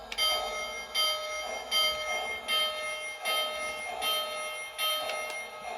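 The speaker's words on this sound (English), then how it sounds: "Here's the bell." Toy diecast locomotive bell ringing in a steady repeating pattern, about seven bright metallic dings spaced under a second apart over a faint hum, with no talking.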